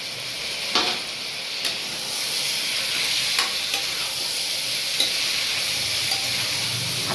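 Tomatoes sizzle in a frying pan among already-softened mint and coriander, a steady bright hiss broken by a few sharp stirring clicks and scrapes.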